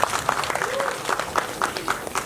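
Audience clapping at a Nepali stand-up comedy show, a scattered, fairly light patter of hands filling the hall for about two seconds.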